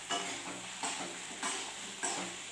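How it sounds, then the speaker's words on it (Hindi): A spoon stirring salt and spices through potato in a pan, four regular scraping strokes about every half second over a faint background sizzle, close and quiet with no talking. "इसको चला लेंगे अच्छे से।"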